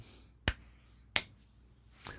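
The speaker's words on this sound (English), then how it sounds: "golf clap." Three soft, sharp claps spaced about a second apart, quiet and close, with near silence between them.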